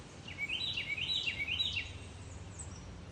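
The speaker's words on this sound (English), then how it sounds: "You can hear the birds chirping" Birds chirping outdoors on a June nature walk, a few quick rising and falling high calls repeated in the first half, then a couple of fainter distant chirps, over a low steady outdoor rumble.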